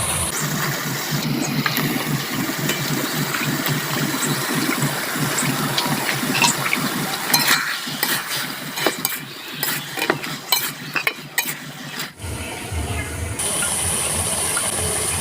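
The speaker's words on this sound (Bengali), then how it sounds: "আমি মাছটা দিয়ে নেব।" Fish hits a pan of fried spices and sets off a loud, steady hiss of sizzling oil that goes on for many seconds, crackling unevenly toward the end, with no voices.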